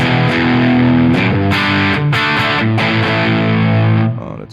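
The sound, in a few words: electric guitar through boost distortion pedal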